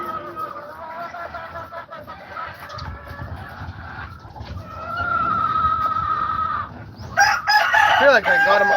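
Chickens and a rooster in a farmyard cluck and crow, with a loud crowing burst near the end over a low background hum.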